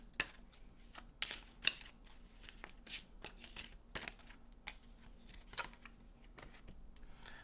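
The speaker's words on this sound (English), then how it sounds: "Let's shuffle a little bit more." Tarot cards being shuffled by hand, a series of soft, quiet riffling bursts and light taps with brief pauses between them, close to the microphone with no talking.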